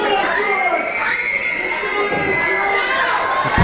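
A live pro wrestling crowd at Pro Wrestling Star Academy cheers and shouts continuously, loud and close, with high excited voices rising and falling and a commentator's talk partly blended in.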